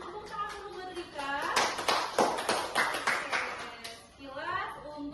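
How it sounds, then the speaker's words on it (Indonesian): Elementary schoolchildren clap for a classmate in a classroom, a short irregular burst of hand claps rising in the middle and tapering off, with children's voices and chatter around it. "Tepuk tangan dulu buat Rika."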